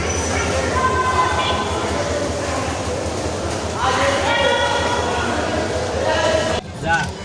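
A train rumbles steadily at Rangpur railway station with high squealing tones, busy crowd noise around it, then the sound cuts off abruptly near the end.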